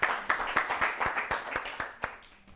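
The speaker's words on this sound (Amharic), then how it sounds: "አጨብጭቡላቸው።" Applause from a studio audience at an Ethiopian children's TV quiz show, a brief burst of hand clapping with several sharp individual claps standing out, fading within a few seconds.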